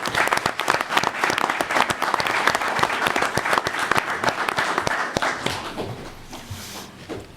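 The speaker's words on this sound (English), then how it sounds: "round of applause, I think." A room at a town select board meeting breaks into applause, many people clapping in a dense, sharp patter for several seconds before it thins out and fades.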